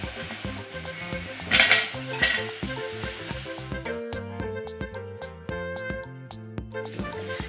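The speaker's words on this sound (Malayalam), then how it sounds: "ഇതിലേക്ക് എടുത്തു വെച്ചിട്ടുള്ള ഇഞ്ചിയും വെളുത്തുള്ളിയും ചതച്ചത് ഇട്ട് കൊടുക്കാം" Crushed ginger, garlic, green chili and potato fry in a pan for a Kerala soybean curry, a soft sizzle under repeated spoon scrapes and clinks against the pan, with a steady instrumental tune playing alongside.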